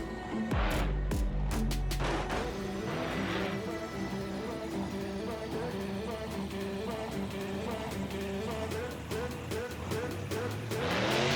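A monster truck shoves a Land Rover down a hill in BeamNG, with a steady engine drone and tire rumble running throughout, plus sharp scraping bursts near the start and end.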